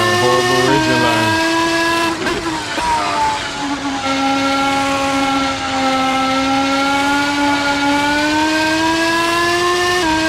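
A race car in a racing video game laps an Italian circuit, its engine note held loud and close, revving up then settling into a long steady high-pitched whine as it accelerates through gears.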